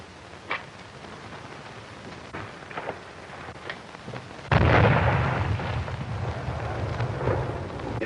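A bomb detonates in a 1936 film scene, a sudden loud broadband blast at mid-clip followed by a sustained rumbling roar, after several seconds of quiet background with faint thumps.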